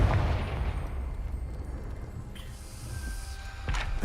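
A Confringo blasting spell in Hogwarts Legacy bursts with a loud opening explosion that decays into a rumbling, crackling roar, followed by a bright magical shimmer and another sharp crack near the end.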